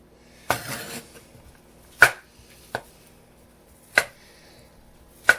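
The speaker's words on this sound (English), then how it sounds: "So you can just chop them any way you want." A knife chops potatoes into bite-sized pieces on a cutting board, giving one rough scraping stroke and then four crisp, separate thuds at uneven intervals, close and clear in a quiet kitchen.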